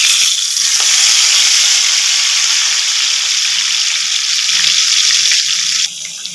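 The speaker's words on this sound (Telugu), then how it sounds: "మెంతి కూర వేగుతుంది." Fenugreek leaves fry in a hot pan for an egg curry, making a steady bright sizzle that holds evenly close up and drops off near the end, with faint clinks beneath and no talk.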